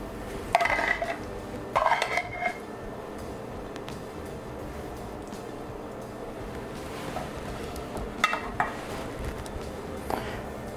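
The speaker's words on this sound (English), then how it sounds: "I'm going to spoon in my polenta" Polenta being spooned into a deep baking dish, with a few sharp clinks and scrapes of a spoon against the dish in separate bursts over a steady low kitchen background, no talking.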